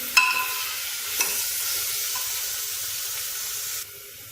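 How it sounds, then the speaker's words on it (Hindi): Minced meat (keema) sizzles steadily in a hot pan while being stirred, with a continuous frying hiss and a couple of sharp scrape clicks from the spoon, close and fairly loud, then cutting off abruptly near the end. "फौरन डालेंगे हम इसमें कीमा। तीनों को हम हल्का सा तल लेंगे।"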